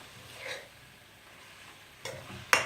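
Veg chow mein tossed with chili sauce in a pan gives a soft stirring scrape and a faint sizzle. It ends in two sharper clinks of utensil against metal.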